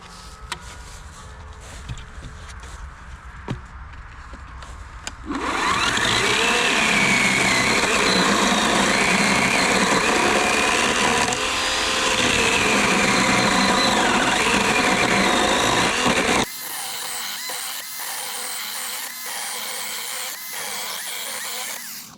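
An Einhell GC-KS 18 Li cordless chainsaw cuts dry wood: a quiet start, then a loud, steady high-pitched motor whine under load for about ten seconds, dropping to a lighter idle run near the end, with no talking.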